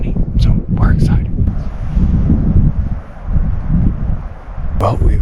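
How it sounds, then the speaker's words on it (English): Strong wind buffeting the microphone outdoors on a ridge during a backcountry mule deer hunt: heavy, low rumbling gusts that rise and fall continuously, with brief faint voice sounds near the start and end. "it's a lot more windy today"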